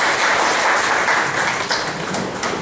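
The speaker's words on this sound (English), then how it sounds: "I would like all of you to give a big round of applause for all our speakers" A seminar audience gives a loud, dense round of applause for the speakers, with continuous close clapping throughout and no talk.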